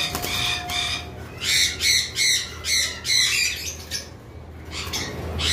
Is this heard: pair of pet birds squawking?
yes